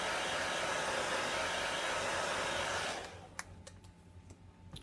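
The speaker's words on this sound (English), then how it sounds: "So I just use a hair dryer for time purposes" A hair dryer blows steadily on chalk paint over a wooden sign, a loud broadband whoosh that cuts off about three seconds in, leaving a quiet room with a few faint clicks.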